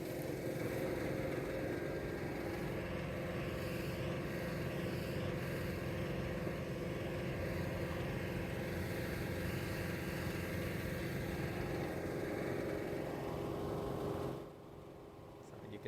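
A budget rototiller chews into a compacted clay field that has not been worked in about 50 years, its engine droning steadily and close for about fourteen seconds before cutting out abruptly, leaving quieter background.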